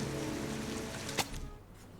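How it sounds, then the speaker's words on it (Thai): Heavy rain falls steadily in the video game Heavy Rain, a dense wash of hiss that thins toward the end, with one brief sharp knock partway through. "ฝนตกหนักเหลือเกิน"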